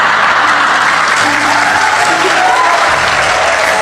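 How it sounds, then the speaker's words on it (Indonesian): Sustained applause from a church congregation during a sermon, a dense, steady wash of many hands clapping at full loudness throughout, with faint voices mixed in. "Gak usah tepuk tangan"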